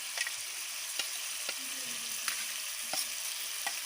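Ginger paste sizzling and frying in a pan of gravy for pumpkin kofta, a steady close hiss broken by occasional sharp pops and spoon-stirring clicks, with no talking.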